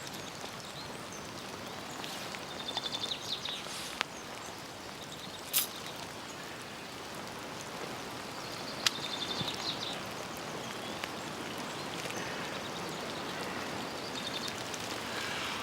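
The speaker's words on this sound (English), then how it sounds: "Let's get out of this rain." Rain falling as a steady, even hiss across the whole stretch, with a few isolated sharp drips or taps and faint bird chirps in the background, no voices.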